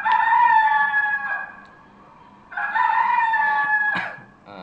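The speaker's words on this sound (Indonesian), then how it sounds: "Ni semua orang dah dengar kan bunyi ayam ni." A rooster crows twice in succession, a loud, close, harmonically rich call ending with a brief clucking burst, the second crow following after a short pause; no people speak.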